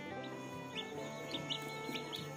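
Repeated high, thin peeps from a newly hatched chick, close and fairly faint, over a steady low hum, with a few quiet clucks from the hen mixed in.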